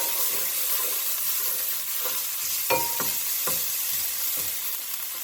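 Garlic paste crackles and sizzles in a pan over high heat, a loud continuous hiss broken by a few sharp pops and scrapes near the middle, with no talk.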